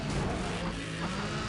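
A loud car engine roars in the Need for Speed: ProStreet racing game, a dense continuous drone filling the short stretch at high volume with no talk.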